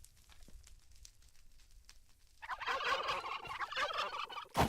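Turkeys in the Minecraft video game gobble in a rapid, repetitive burst that starts faint and grows loud and close halfway through, ending with a sharp final note; no talking.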